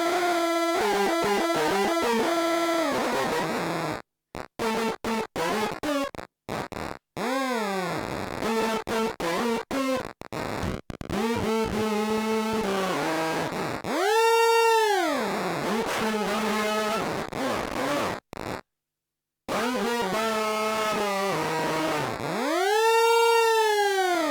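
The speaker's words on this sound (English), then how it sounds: "With the pitch shifting mode, it will sound totally cool." An Occvlt guitar pedal in pitch-shifting mode paired with a synth, producing weird tones that swoop and glide up and down in pitch, with siren-like arcs, stuttering bursts and abrupt silent gaps.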